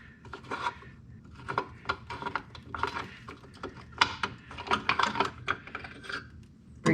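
Metallic clicks, clinks and ratcheting sounds come from a wrench working a front brake line loose on a MK3 Toyota Supra, an irregular run of close, moderately loud mechanical taps and rattles.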